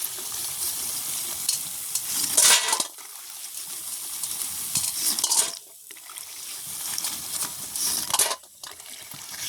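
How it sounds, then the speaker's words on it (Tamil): Diwali snacks deep-frying in hot oil in a village kitchen, a steady close hiss and crackle of bubbling oil with brief surges and dips, no voices. "நல்லா பொரிஞ்சு நிறம் மாறிக்கொண்டு வந்துட்டு நாங்கள் படிச்செடுப்போம்"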